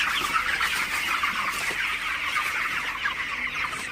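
Broiler chickens in a farm shed at night give dense overlapping clucks and chirps from a crowded flock, steady and close throughout with no voices.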